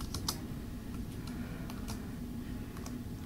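Keys clacking steadily on a 27-inch iMac's computer keyboard, a run of quick, light taps over a low room hum with no voices.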